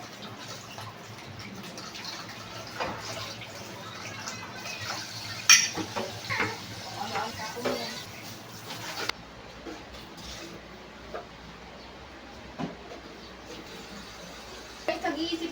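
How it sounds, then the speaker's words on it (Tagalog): Dishes are washed by hand in a kitchen sink, with clinking plates and cutlery, splashing and running water, close by and irregular, while a person talks intermittently. "Ngayon naman guys, maghuhugas ako ng plato."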